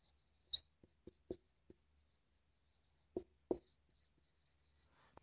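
A pen or marker scratches out a physics equation in short, quiet, separated strokes and taps, with silence between them during a Hindi/Urdu lecture.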